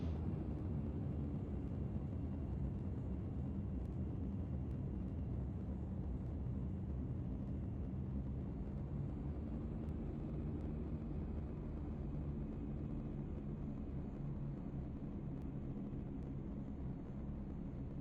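Airliner engines roar in reverse thrust after landing on the runway at Santorini, a steady, loud, low rumbling drone heard from inside the aircraft, holding without break throughout.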